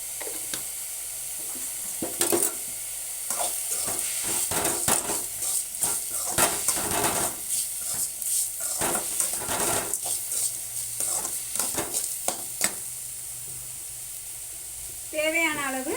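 Turmeric, chili and coriander powders being stirred into a country chicken curry in a pan, with scraping spoon strokes and clinks over a soft sizzle, and a voice speaking briefly.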